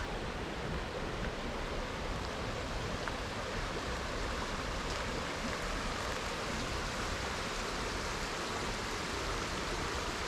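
Lynn Creek along the Woodhaven Trail in Fairfield Bay, Arkansas, streams along in a constant, even rush of flowing water, close and unbroken throughout with no voices.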